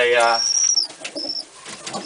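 A pigeon gives a soft, throaty coo close by, a short burst of low warbling tones followed by faint rustling and a high whistle-like sound, with someone talking quietly in the background.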